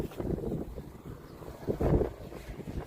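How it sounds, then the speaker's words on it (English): Wind gusts roar against the microphone outdoors in a low, rumbling rush that swells and fades, with no talk. "It's a bit windy here."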